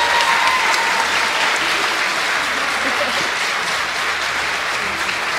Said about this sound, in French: Je vous prie d'encore les applaudir.